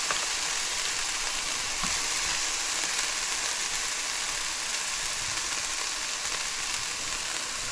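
Vegetables sweat in a hot pan for shepherd's pie, giving a constant dense sizzle and crackle that stays loud and even throughout, with no voices.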